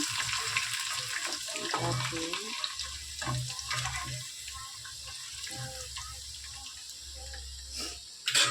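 Garlic, peanuts and chana dal fry in oil in a pan with a soft, steady sizzle and crackle that continues throughout, while a voice talks intermittently over it.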